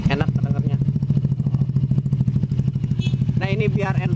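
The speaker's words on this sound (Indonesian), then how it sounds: "Ini untuk yang punya motor, suara mesinnya sudah senyap, seperti tidak menyala tuh." Idling four-stroke engine of a 2007 Yamaha Jupiter Z underbone motorcycle with a stock exhaust, a steady low, quiet throb running close and continuous throughout, with someone talking over it.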